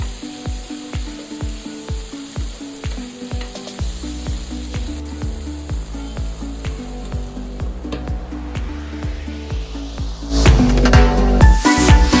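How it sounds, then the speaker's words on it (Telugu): Tomato pieces fry in a pan for capsicum masala kurma, with a steady sizzle under faint rhythmic ticking that swells into a louder, hissing surge near the end. "ఈ టమాటా ముక్కలు కూడా మంచిగా వేగాలి"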